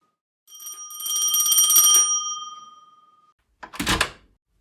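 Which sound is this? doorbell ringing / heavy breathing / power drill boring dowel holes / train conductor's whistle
doorbell ringing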